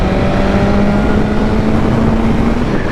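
A brand-new 2024 BMW S1000RR sport motorcycle accelerates hard, its loud, steady engine roar close and continuous throughout, with a sustained droning tone under broad mechanical noise.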